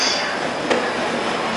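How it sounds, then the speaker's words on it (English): A subway train pulls into a station at a transfer point, with a steady loud rumble of wheels and a brief sharp click partway through; no one talks. "As soon as I get here, a train's just arriving."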